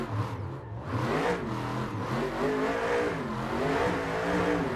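A 2024 Ford Mustang RTR drift car pulls hard in third gear on a mountain road, its engine note climbing in steady harmonic sweeps, loud and close with a continuous rising roar.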